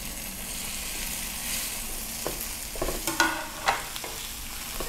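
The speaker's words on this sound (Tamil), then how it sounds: "இப்போ நம்ம இதில் கட் பண்ணி வச்சுருக்க வெண்டைக்காயை நம்ம சேர்த்துடலாம்" Cut okra (lady's finger) frying with turmeric and spices in a pan, a steady close sizzle broken by several scraping stirs and knocks of the spoon toward the end, no voices.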